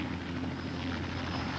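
Steady, droning rotor and engine hum of a helicopter flying for film work near Matlock, continuous and moderately loud with a low tonal throb and no voices.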